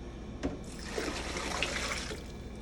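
Water mixed with disinfectant chemical poured into a commercial fryer vat, a continuous rushing gush and splash that swells after a brief thump and carries steadily for a couple of seconds, close and moderately loud.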